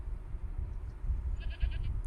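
A goat bleats in a fantasy drama scene, a brief wavering cry rising faintly over a low ambient rumble with no talk.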